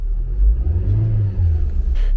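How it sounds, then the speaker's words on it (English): A Renault Clio, bought cheap at auction, revs its engine up from idle: a loud, close, deep rumble that swells and settles, with no talking. "Let's give it a little rev."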